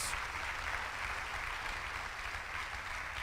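Church congregation applauding during a sermon, a steady dense wash of clapping that holds at an even level throughout, somewhat distant and without clear breaks.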